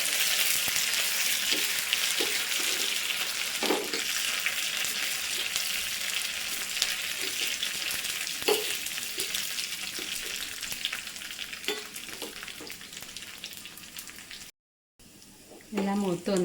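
Onions, dried red chillies and curry leaves frying in oil in a pan for a raw banana ozhichu curry, a strong continuous sizzle with occasional stirring scrapes, a brief cut near the end, and a voice speaking faintly at times.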